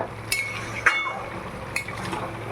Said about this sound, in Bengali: চিকেনটাকে আমি 8 ঘন্টা এভাবে কষিয়ে নেব।